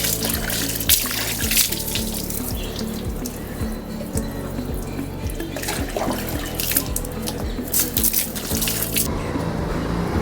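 Steady tap water runs and splashes continuously while a golden retriever is given a bath in lukewarm water, a close, full gush with faint trickles and drips and no voices.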